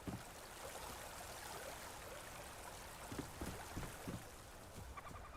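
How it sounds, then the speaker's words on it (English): Water flows through a built stream in the survival game Enshrouded, a faint continuous trickling wash with a few soft splashy ticks, no voices over it. "our water's really flowing now"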